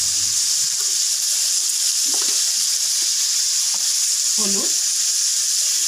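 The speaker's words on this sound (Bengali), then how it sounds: "আমি আগে কিছু সময় ভেজে নেব।" Meat frying with spices in a pan gives a loud, steady sizzle throughout, broken by a few stirring scrapes, with a brief spoken word over it.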